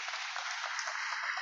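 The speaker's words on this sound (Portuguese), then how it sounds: "Vamos aplaudir o Rogério, por favor." Brief burst of audience applause for a speaker at a debate on social security, a steady, even wash of clapping that sounds slightly thin and distant.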